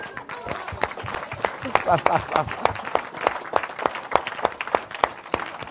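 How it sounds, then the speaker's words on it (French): A church congregation applauding at a French-language sermon, a dense run of claps at close range, rising and thinning briefly with some voices and cheers mixed in. "On acclame la parole du Seigneur."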